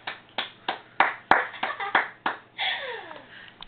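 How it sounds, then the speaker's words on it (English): A small handful of people clap in uneven bursts, about a dozen separate claps, close and sparse, after a young girl's saxophone performance following her first lesson, ending in a brief smeared rustle. "Applause, applause, applause."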